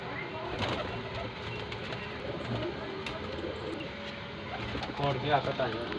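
Golden pigeons with red eyes, a male and female pair, cooing softly in a steady low murmur amid a busy ambient background, with scattered faint chirps and rustling.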